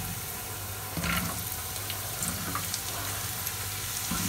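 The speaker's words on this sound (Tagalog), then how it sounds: "Umpisahan na po natin igisa ang bawang." Garlic sautéing in a pan for Filipino pancit palabok, a steady close sizzle with faint scraping stirs throughout.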